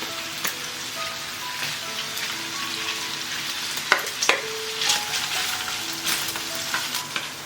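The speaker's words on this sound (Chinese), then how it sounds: "我们先炒香菇" Shiitake mushrooms stir-fried in lard alongside rendered pork belly, a steady crackling sizzle with intermittent scrapes and clacks of the spatula against the wok.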